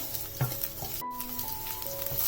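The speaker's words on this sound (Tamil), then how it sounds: "இப்போ இதில் இந்த வெங்காயம், கருவேப்பிலை, இஞ்சி, பூண்டு, பச்சை மிளகாய் இது எல்லாத்தையும் சேர்த்து நல்லா ஃப்ரை பண்ணிக்கலாம்." Onion, curry leaves, ginger, garlic and green chili sizzle in oil in a pan, with a steady close crackle, a few stirring scrapes and a short clink, no talking.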